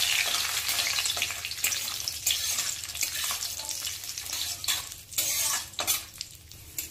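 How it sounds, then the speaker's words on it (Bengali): Cashews frying in a pan with spices, a continuous hissing sizzle close by, broken by occasional clinks and scrapes of stirring. "এবার এতে কয়েকটা কাজু দিয়ে দিলাম। কাজুটাকেও ভালো করে একটু ভেজে নেব।"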